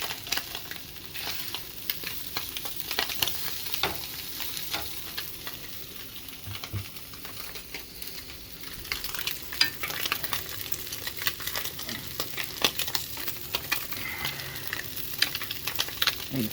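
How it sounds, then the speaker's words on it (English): Pot of rice on the stove for Spam musubi nearing a boil, giving a steady soft sizzling, bubbling hiss with small crackles that grows a little busier in the second half, no voices. "the rice is beginning to get closer to boiling."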